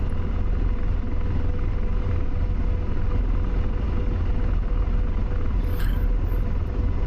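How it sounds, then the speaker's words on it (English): An AH-64 Apache attack helicopter in the DCS flight simulator lifts off, its engine and rotors producing a loud, steady, close rumble with a droning whine throughout. "we're gonna more than likely do a traditional takeoff with a helicopter"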